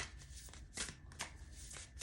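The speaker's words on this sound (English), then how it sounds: "let's just get into this shuffle." A deck of tarot cards being shuffled close up: rapid riffling bursts that repeat in an uneven rhythm, fairly loud, with no talking.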